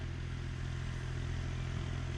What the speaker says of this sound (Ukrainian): І Васька на тракторі мчить уже.